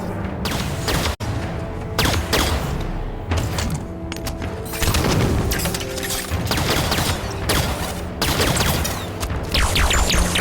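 Rapid bursts of gunfire aimed at a shield generator in the video game Halo 5, with repeated sharp shots and heavy thumps in quick succession, loud and continuous.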